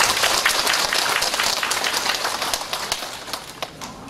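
Ceremony guests at a rally in Jinju marking the 100th anniversary of the March 1st Movement give a big round of applause, a dense burst of clapping that gradually tapers into scattered claps.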